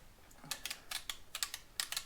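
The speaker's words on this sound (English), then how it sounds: "you can definitely hear some clicking" Quiet, irregular mechanical clicks in short clustered bursts, crisp and close, from a faulty Jeep Cherokee XJ door lock switch being worked back and forth, with no talking.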